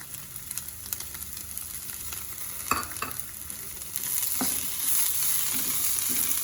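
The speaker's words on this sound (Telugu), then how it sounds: "ఇవన్నీ చక్కగా ఫ్రై చేసుకోవాలి." Brown onions frying in a pan with chopped mint and coriander, a steady close sizzle with intermittent stirring scrapes, growing slightly louder toward the end.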